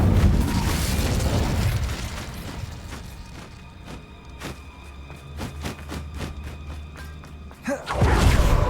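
Spells cast in Hogwarts Legacy, including the Incendio fire spell, produce a heavy whooshing burst at the start. A run of sharp magical pops and thuds follows, then another loud low boom near the end.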